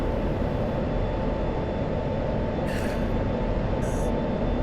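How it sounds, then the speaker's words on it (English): In the DCS flight simulator, an F-16 runs at full afterburner, a dense, steady roaring rush that stays constant through the clip, with two short brief chirps over it and no speech. "So we're going to go full afterburner now."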